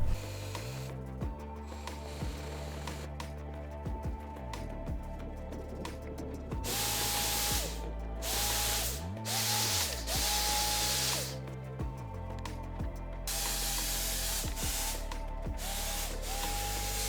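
A paint sprayer spraying water hisses in repeated bursts, with mechanical clicks and motor whine between them, close up and with no talking.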